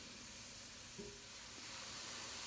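Onions and apples sizzle softly in melted butter in a pan, a steady, faint hiss close by with a brief clink of a utensil partway through.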